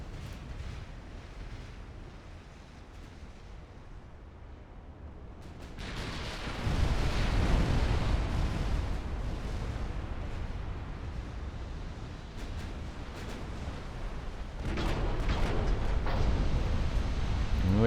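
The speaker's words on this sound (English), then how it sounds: "We are getting torpedo hits on the battle cruisers and the battleships." Naval gunfire and torpedo hits on battlecruisers and battleships in the naval strategy game Ultimate Admiral Dreadnoughts, heard as low, rumbling booms that swell into a sustained roar of heavy blasts after a quieter start.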